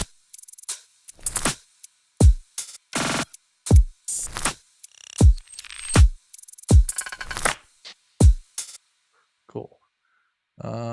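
A programmed drum pattern in a music production plays alone, with punchy deep 808-style kicks and crisp hits landing in a syncopated rhythm, then thinning out into sparse final hits.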